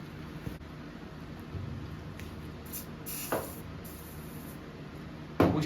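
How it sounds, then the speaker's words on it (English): Several short hissing bursts of aerosol lubricant sprayed onto a drill bit, separated by quiet gaps, with one louder burst at the end. "spray this drill bit"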